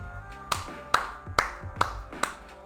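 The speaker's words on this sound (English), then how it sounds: "There's your round of applause, Esau" A single person gives slow, sarcastic applause: six or seven sharp, evenly spaced claps about half a second apart, fairly close and alone over a faint background.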